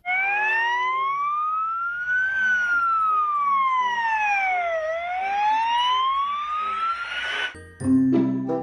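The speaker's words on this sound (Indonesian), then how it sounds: "ternyata ada mobil ambulan" A toy ambulance's electronic siren sweeps slowly up and down in a continuous, loud wail, ending with a short clatter as the toy is handled.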